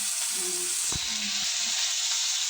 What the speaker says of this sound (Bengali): এই তুমি কালো জিরে ফোড়ন দিলে